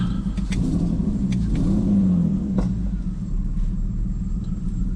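A turbocharged BMW E46 engine with a blown motor idles roughly, misfiring with an uneven, stumbling rumble, broken by faint clicks and taps, close and continuous.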